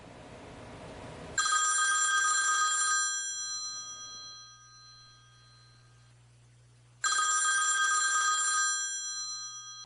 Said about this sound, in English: If that phone rings in the White House now,